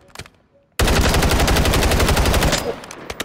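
Video game gun tested on a firing range, a sudden loud burst of rapid automatic fire with rhythmic, evenly spaced shots that runs for nearly two seconds, then cuts off into quiet.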